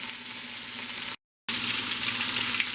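Spinach-stuffed pork loin searing in a hot pan, a loud, steady close-up sizzle broken by a brief silent gap before the frying resumes.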